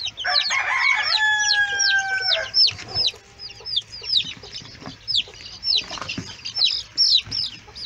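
Chickens, including silkie-cross hens, cluck and chirp close by, with a rooster-like crow early on and scattered short calls throughout.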